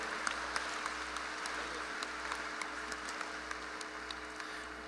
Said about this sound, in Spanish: también le damos un fuerte aplauso a Monseñor Pedro Mena, obispo auxiliar de nuestra arquidiócesis